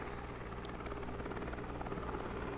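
A Cabri G2 helicopter flying in a flight simulator, a steady droning engine and rotor hum, even and continuous, with no talking.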